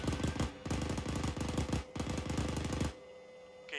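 A machine gun fires in ArmA 3, with rapid rattling bursts in three long strings separated by short pauses, loud and close, then a sudden stop.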